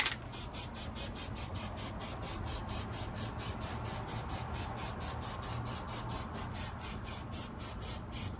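A spray can used for hydro dipping fires a fast, even train of short hissing bursts, about three per second, close and steady for over eight seconds with no talking.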